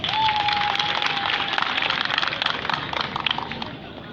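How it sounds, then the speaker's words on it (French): Applause from a gathering at an International Women's Day event in Côte d'Ivoire, a dense clatter of clapping hands with a sustained tone running beneath it early on, fairly loud and fading slightly at the end. "Je pense que vous pouvez vous applaudir pour ça."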